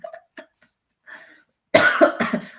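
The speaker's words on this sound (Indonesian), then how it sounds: "saya jadi batuk nih" A man coughs during an Indonesian commentary, a few faint throat sounds followed by a loud burst of harsh, close coughs in quick succession.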